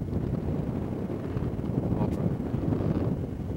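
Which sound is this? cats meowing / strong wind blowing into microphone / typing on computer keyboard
strong wind blowing into microphone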